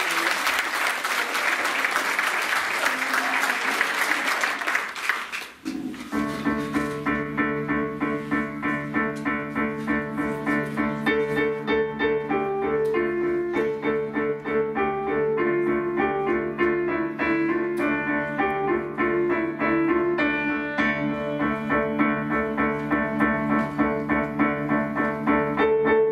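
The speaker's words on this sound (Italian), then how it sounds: "Un applauso a Italo!" Audience applause at a music recital in a music studio: dense, close clapping for about five seconds, then giving way to sustained piano-like tones that continue to the end.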